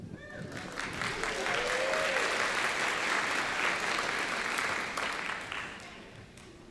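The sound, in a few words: theatre audience applause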